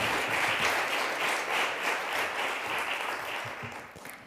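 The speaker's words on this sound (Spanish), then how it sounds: "vamos a dar un aplauso muy fuerte para empezar" An audience at a talk on the writer María Gabriela Llansol applauds, steady clapping from a moderate crowd at medium distance that slowly fades toward the end, without speech.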